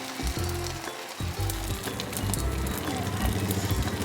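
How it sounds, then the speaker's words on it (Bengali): Sago pakoras frying in hot oil, a steady broadband sizzle that stays loud and continuous throughout, with low tonal hum-like sounds beneath that could be soft background voice or music. "তারপর এটাকে লাল লাল করে ভেজে নিতে হবে"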